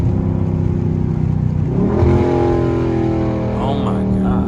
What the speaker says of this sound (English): I'm gonna let y'all hear the car real quick.